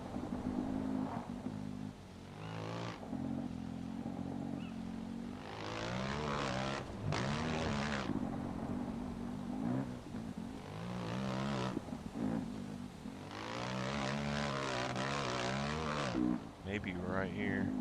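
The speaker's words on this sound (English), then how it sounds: "Can we land a plane here?" A propeller airplane engine drones in the survival video game Scum, a steady close whine that rises and falls in pitch, with someone talking over parts of it.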